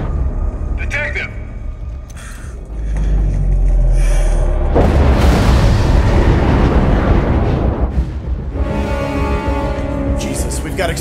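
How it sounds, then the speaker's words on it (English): Deep booms and rumbling blasts rip through a spaceship in a sci-fi drama, and the loud roar swells and lingers as people shout over it. "we've got explosions on the rear of the ship."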